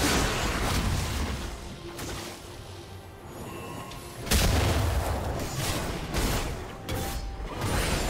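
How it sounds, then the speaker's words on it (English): A turret is destroyed in a League of Legends match with heavy booming crashes. A series of loud impacts and rumbling blasts builds to a stronger burst partway through, over a constant layer of game noise. "Blue team's turret has been destroyed."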